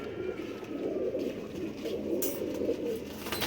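Pigeons coo in soft, repeated low murmurs, fairly close and continuous, with faint background noise and no talking over them.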